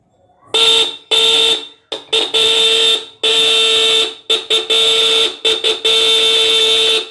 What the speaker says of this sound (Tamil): இப்போ நம்ம இந்த ஹார்ன் இதில் அடிக்குதா அப்படிங்கிறதையும் செக் பண்ணிடலாம்